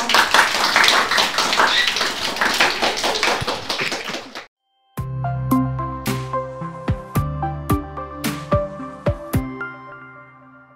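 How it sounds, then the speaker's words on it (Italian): A first-year middle school class in Capalbio applauds classmates, a dense burst of clapping for about four seconds that breaks off, followed by sharp, ringing taps. "facciamo un bel applauso anche a loro"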